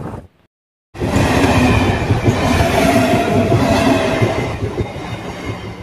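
A train runs along a railway line in Madhyamgram, a loud, close, continuous rumble with rhythmic wheel clatter and a faint squeal, starting abruptly after a brief moment of silence.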